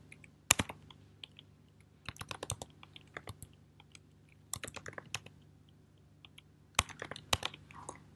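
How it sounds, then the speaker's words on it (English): Computer keyboard typing in scattered bursts, crisp close key clicks clustered in quick runs with short pauses between them, against a low steady hum and no speech. "they can type in their answers here"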